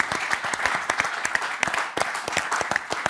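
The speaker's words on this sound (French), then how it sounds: "Vous pouvez l'applaudir et l'encourager." A French TV studio audience applauds to welcome a guest onto a football talk show, dense steady clapping at close range with sharp individual claps standing out, sustained throughout.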